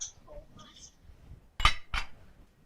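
Diced tomatoes added to a pan while cooking turkey bolognese, giving two sharp clinks from a can or utensil against the cookware, close and fairly loud, after a stretch of quiet kitchen noise with some speech.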